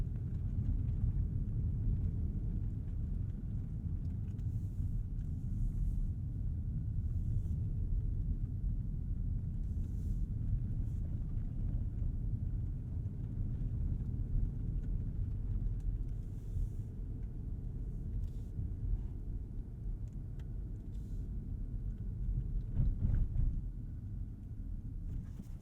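A 2022 Rolls-Royce Ghost with all-wheel drive and winter tires driving over snow, heard as a steady low engine and road rumble inside the car. Faint higher ticks and rustles sit above the drone.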